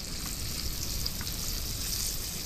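Whole quail frying in a pan: a steady, dense hiss and crackle of hot oil with small pops throughout, close and constant, with no voices.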